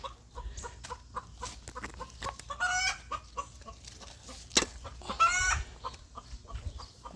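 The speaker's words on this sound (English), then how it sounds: "Okay, chicken, just go lay your egg." A chicken clucks repeatedly in a garden during a spinach harvest, a series of short irregular clucks with a couple of louder squawking bursts, close and clear with no talk.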